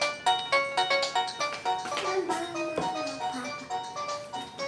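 A phone rings with a repeating melodic ringtone, a clear electronic chime pattern at moderate volume, heard during a family toddler birthday gathering with light background voices.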